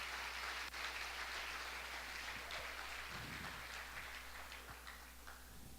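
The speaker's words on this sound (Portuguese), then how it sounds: "Quem pode dar uma salva de palmas para aqueles que têm unção?" A church congregation breaks into sustained applause, a dense crackling wash of many hands clapping at moderate distance, fairly steady throughout with a few sharper individual claps standing out.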